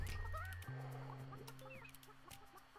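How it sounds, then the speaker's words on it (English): Chickens in the video game Burly Men at Sea cluck in short, close bursts over a steady game backdrop, with a low sustained tone running beneath. "We're gonna hit every chicken until there's no more eggs to hatch."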